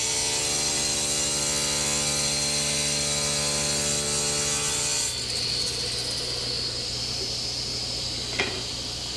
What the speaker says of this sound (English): I haven't had a problem cutting aluminum on the table saw